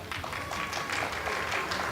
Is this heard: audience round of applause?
yes